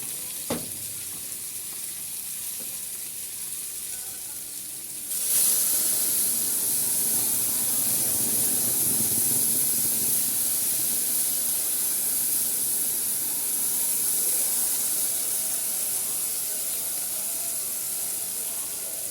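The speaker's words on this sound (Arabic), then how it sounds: "خلاص كده نحط الشوربه بقى" Hot broth poured onto fried pasta in a pan: after a quieter stretch, a sudden loud hissing sizzle bursts in and settles into a sustained, steaming fry that continues steadily to the end.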